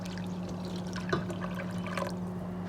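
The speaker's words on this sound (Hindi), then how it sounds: "बस इतना पानी मैंने शामिल करना है" Water trickles and pours into a pot of rice being cooked for beef mandi, a soft, close, brief stream under a steady low electrical hum.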